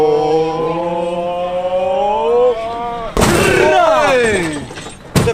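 A boxing arcade machine takes a hard punch, giving one loud impact near the three-second mark over continuous electronic machine tones, with another sharp hit right at the end.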